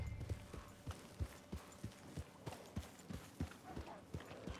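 Steady, evenly spaced hoofbeats of a horse clip-clopping at a walk in the video game Red Dead Redemption 2 on PS5, moderately close over a low background hum, with no talking.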